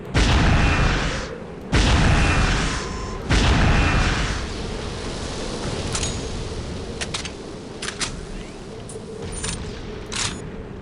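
A rocket blown up in the shooter game Unreal 2: three heavy booming blasts in quick succession, then a low rumble with scattered sharp clicks and small impacts, loud and close, no talk.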